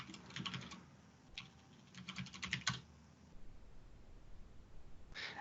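Quiet keystrokes on a computer keyboard come in short bursts as a command is typed, with gaps between clusters of clicks and a final tap near the end.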